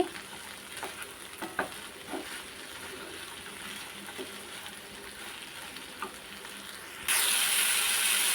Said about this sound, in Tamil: சுண்டக்காய் வெங்காயம் தேங்காய் காஞ்ச மிளகா எல்லாமே நல்லா சூப்பராக வதங்கிடுச்சு